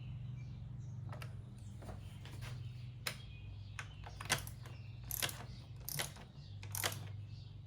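A ratchet tightens spark plugs on a 2004 Toyota RAV4, giving sparse, irregular clicks over a steady low hum.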